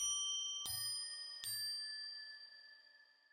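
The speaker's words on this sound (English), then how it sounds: "I love the trails on the Mercury 7," Mercury 7 reverb pedal in shimmer mode: two struck bell-like guitar notes that bloom into long, pitch-shifted shimmering trails slowly fading away, quiet and alone.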